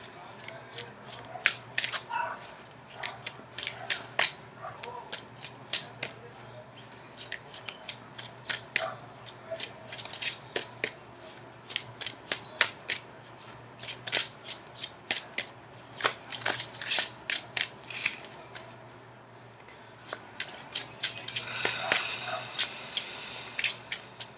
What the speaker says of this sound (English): Okay, I'm going to cut the cards.